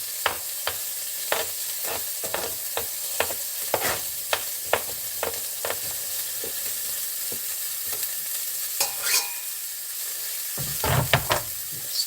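Garlic and asparagus sizzle in a frying pan with a steady low crackle, punctuated by a dozen or so sharp clinks and scrapes of stirring, a louder burst of spitting and scraping near the end.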